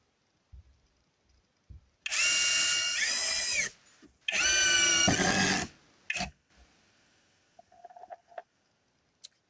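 A Grosser GCD 16/42 cordless screwdriver driving screws into soft wood, two loud whirring bursts of a couple of seconds each with a pitch shift, separated by clicks and handling noise, close up.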